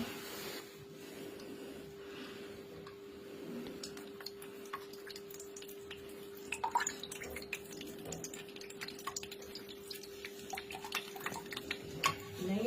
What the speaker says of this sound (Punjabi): ਜਦੋਂ ਉਹ 'ਚ ਸੂਈ ਮਰੀ ਜਾਂਦੀ ਹੈ ਤਾਂ ਦੇਖੋ ਕਿੰਨਾ ਜ਼ਿਆਦਾ ਜਿਹੜਾ ਪਾਣੀ ਉਹਦੇ ਵਿੱਚੋਂ ਨਿਕਲਦਾ